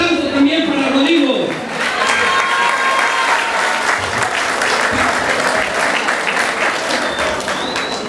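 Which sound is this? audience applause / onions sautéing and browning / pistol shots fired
audience applause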